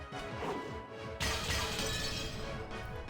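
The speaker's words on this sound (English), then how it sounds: "the sound of breaking glass, which startled Jessica" Glass shatters in the Umineko visual novel, a sharp crash hitting at about one second and then ringing out in a bright, dense spray of fragments that fills the rest of the moment, loud and close with no voices.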